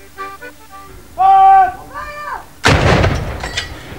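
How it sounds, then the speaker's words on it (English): A cannon shot from a 21-gun salute on the ramparts of Edinburgh Castle booms loudly and echoes away, following tonal notes of pipes or voices in the moments before. "The capital city saluted the Queen Mother with a 21-gun fusillade from the ramparts of Edinburgh Castle."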